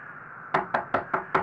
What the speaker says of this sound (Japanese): 小林さんは意を決したように歩み寄ると扉を強くノックした。